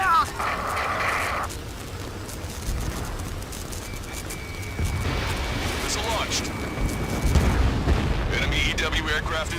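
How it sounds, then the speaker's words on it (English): A missile launch in the jet combat game Ace Combat 7, heavy booming rumbles and whooshing blasts layered over continuous engine roar, with a brief radio tone and game voices talking intermittently over the action. "Missile launch."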